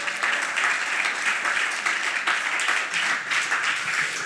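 Steady audience applause at an artist talk with an experimental musician, a dense, even wash of many hands clapping at moderate volume with no voices over it.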